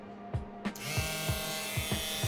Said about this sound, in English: mini sander with the sandpaper on the edge, and then you want to just go back and forth